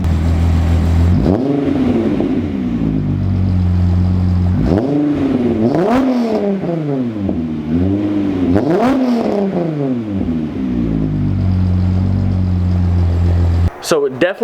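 A car engine idles, then revs hard several times in rising and falling surges, loud and close, ending with a few sharp pops.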